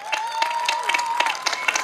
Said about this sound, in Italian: Quindi adesso l'applauso lo facciamo tutti.